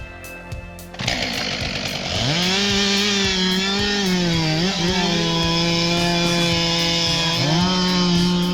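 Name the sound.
Stihl 462 chainsaw felling a tree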